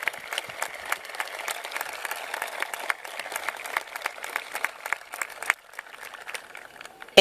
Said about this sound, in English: Please join me in giving a round of applause for Mr.